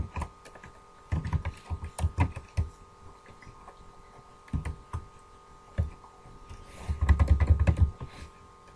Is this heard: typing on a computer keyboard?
yes